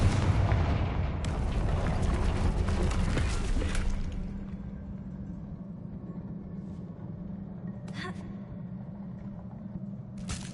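A Confringo fire spell detonates in Hogwarts Legacy, a loud close blast that rolls into a long rumbling roar and fades, followed later by short sharper bursts over a low ambient hum.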